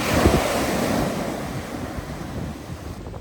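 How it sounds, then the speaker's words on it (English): Ocean waves wash onto a Bahamas beach in a continuous broad roar, close and fairly loud, with gusting wind buffeting the microphone and no voices. "Look at that beach. Look at that weather. Look at that ocean."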